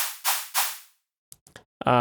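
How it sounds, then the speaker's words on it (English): Two bursts of bright hissing noise, a synthesized metallic snare wire sound, decay quickly one after another, followed by a few faint clicks and the start of someone speaking. "the metallic part of the snares"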